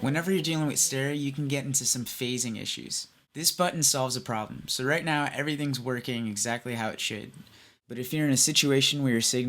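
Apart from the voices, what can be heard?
No distinct noise like a dog, phone or traffic.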